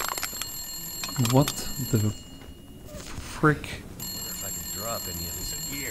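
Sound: emergency phone ringing in The Long Dark video game

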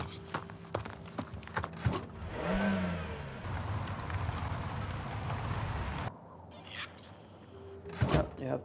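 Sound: car driving in the video game Surviving the Aftermath

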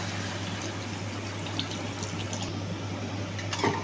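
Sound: water poured into pot for cooking chicken khichuri

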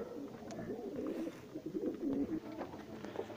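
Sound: fancy pigeons cooing

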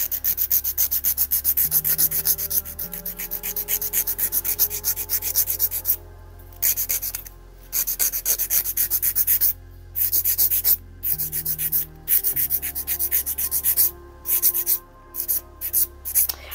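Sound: filing acrylic nails by hand with a nail file

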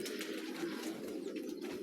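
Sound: pigeons cooing in a pigeon farm

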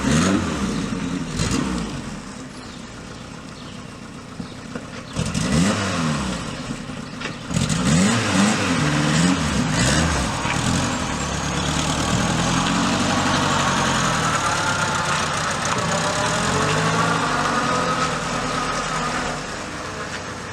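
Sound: Volkswagen Mk1 Jetta engine while reversing

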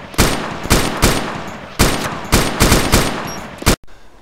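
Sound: gunfire at mutants in DayZ Origins video game

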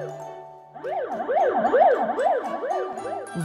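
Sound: fire engine siren in a children's cartoon

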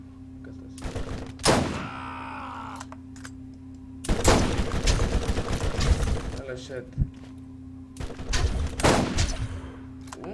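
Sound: gunfire in the video game Borderlands

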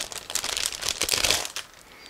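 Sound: opening a plastic bag

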